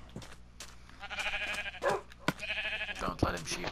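Sheep in the Minecraft video game let out a few short, wavering bleats mixed in with people chatting over them during play.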